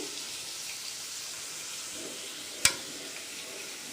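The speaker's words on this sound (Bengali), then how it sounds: "ভালো করে ভেজে নিচ্ছি" Onion and chilli fry in a pan with a steady, fairly faint hiss and sizzle throughout, broken once by a single sharp click or tap.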